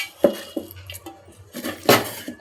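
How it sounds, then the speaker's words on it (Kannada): Poppy seeds, cardamom and white sesame are stirred in a bowl, giving a few close clinks and scrapes of a spoon against the bowl in short irregular bursts. "ಚೆನ್ನಾಗಿ ಮಿಕ್ಸ್ ಮಾಡ್ಕೋಬೇಕು"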